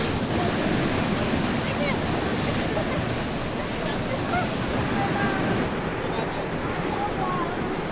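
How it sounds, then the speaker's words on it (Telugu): Loud, continuous roar of surf breaking on the shore at Uppada Beach, with heavy wind rumble throughout and no pauses. "ఉపాడలో అలలు ఎగసిపడుతుండటంతో"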